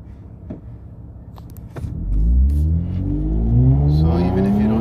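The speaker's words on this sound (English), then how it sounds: "So even if you don't use the paddle shifters, see there's a shift right there, shifts again." Car with an automatic transmission in S mode accelerating hard, engine note climbing then dropping as it shifts gears twice, a loud close-up drone rising in pitch after each shift.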